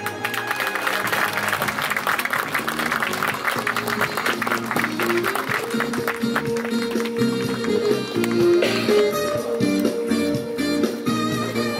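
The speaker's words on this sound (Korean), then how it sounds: "큰 박수." Sustained applause from a crowd at a university front gate completion ceremony, dense clapping throughout with music playing underneath.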